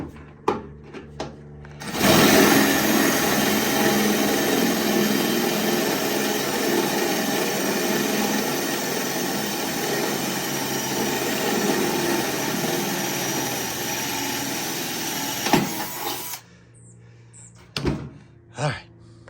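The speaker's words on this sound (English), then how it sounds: "I'm gonna get it into my angle grinder and try my best to clean it up, cut it square and nice" An angle grinder cuts a square access hole in the steel floor pan of a 1967 VW Beetle, a loud, steady broadband whine running about fourteen seconds, with clunks and knocks before and after.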